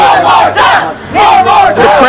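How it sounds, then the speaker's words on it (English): A wrestling arena crowd chants loudly in rhythmic bursts, several swelling shouts close together with a short dip in the middle. "The crowd asking to see it again."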